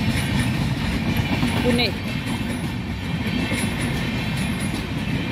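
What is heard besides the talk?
Sinhagad Express train passing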